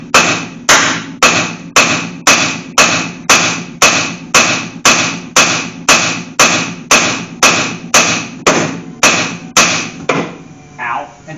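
Loud, steady brass hammer blows on metal under a C3 Corvette Stingray, about twenty evenly spaced metallic bangs in a regular rhythm, each ringing briefly before the next strike.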